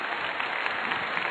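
Audience applause during a Catholic sermon by Padre Léo, a steady dense wash of clapping heard alone at moderate level throughout a short stretch.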